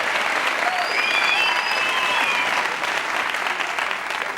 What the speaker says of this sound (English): You don't have to applaud.